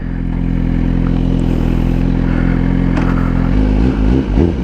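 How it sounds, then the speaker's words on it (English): A Gixxer 1000 sport motorcycle carries its rider out at night toward a bike night, its engine droning loud and close with a steady, even tone before the pitch shifts and wavers near the end. "Taking my Gixxer1000 for a ride."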